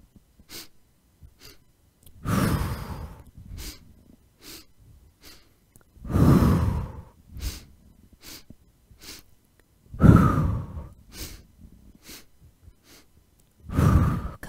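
Deep yoga breathing in a hatha session, slow paired inhales and exhales repeating every few seconds, close and clear, with a quiet gap between each breath cycle.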